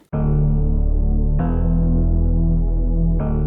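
A deep, buzzy synth bass holds three sustained notes in a row, each entering with a bright attack, loud and alone.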